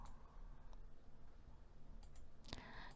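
Single mouse click selecting the weighted-average costing option in accounting software, a faint sharp tick against quiet background hum, with a louder burst of clicking near the end.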